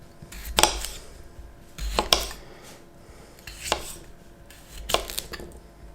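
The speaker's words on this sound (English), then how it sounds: "I've got a couple of potatoes and I'm just going to cut those up" A kitchen knife cuts through potatoes on a board, four distinct chopping strokes spaced about one and a half seconds apart, close and fairly crisp against a quiet room.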